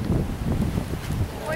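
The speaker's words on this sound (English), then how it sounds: "That wind was Jan telling you, don't go back yet." Wind buffets the microphone on a boat out on open water, a steady low rumbling roar throughout, with faint voices in the background.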